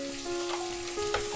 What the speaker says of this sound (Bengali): পেঁয়াজটাকে তেলের সাথে ভেজে নিচ্ছি মোটামুটি 2 মিনিট মতো সময় ধরে।